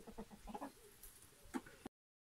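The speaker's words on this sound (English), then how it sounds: "There's the chickens in there having their dinner." Chickens on a farm cluck and chatter while feeding at dinnertime, a soft, steady scattering of calls with one louder squawk near the end, heard close and alone.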